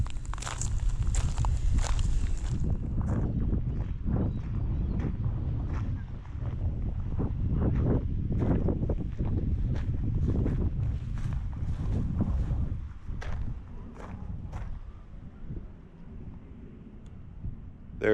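Steady strong wind rushes and buffets the microphone throughout at Port Townsend, with footsteps and thumps underneath; no one speaks.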